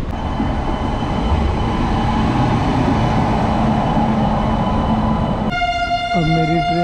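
The Amritsar (Lahori) Express departs Chandigarh station with a steady rumble of wheels on track. Near the end a loud train horn sounds close by.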